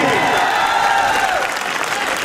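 Audience applause at a school New Year celebration, a steady wash of clapping that stays loud and continuous, with a tonal voice-like line riding faintly underneath.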